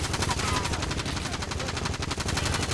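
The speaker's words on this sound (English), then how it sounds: "Oh, we're getting shot at." Rapid automatic gunfire in the Warzone video game, loud and close, with a continuous burst of evenly spaced shots across the whole clip.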